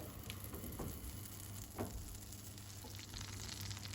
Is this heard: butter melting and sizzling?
yes